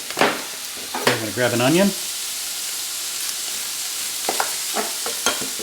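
Potato pancakes fry in a pan with a constant soft sizzle, while someone talks over it at the start and again briefly near the end.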